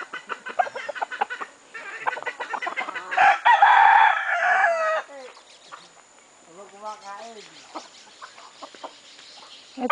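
Hens cluck in bursts and a rooster crows loudly nearby in a mountain setting, with a person speaking intermittently underneath.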